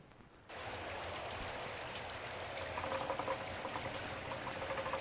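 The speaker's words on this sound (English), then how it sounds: "Outside, it had started to rain. A heavy downpour." A heavy rain downpour sound effect for a suspense radio drama begins abruptly after a brief quiet moment, then continues as a dense, steady hiss of falling water that slightly intensifies toward the end.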